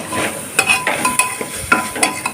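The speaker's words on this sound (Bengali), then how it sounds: "হালকা নাড়াচাড়া করে নেব" Cabbage and carrot momo filling with ginger-garlic paste is stirred lightly in a pan: soft scrapes and taps of the utensil arrive in several short bursts over a quiet sizzle, close by and with no talking.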